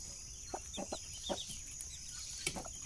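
A hen clucking in a farmyard while tending two black chicks, with soft repeated clucks and faint high peeps, fairly quiet and close.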